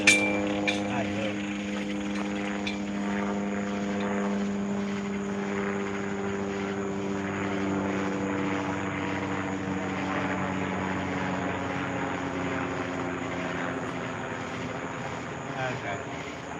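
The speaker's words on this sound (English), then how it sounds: "There's a medical helicopter flying over." A medical helicopter passes overhead, its rotor giving a steady, low, droning thrum that holds fairly constant throughout and sits at moderate distance.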